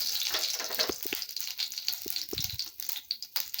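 Mustard seeds, cumin, fenugreek and asafoetida tempering in oil over a low flame, a faint bright sizzle with scattered small pops and crackles, soft and close.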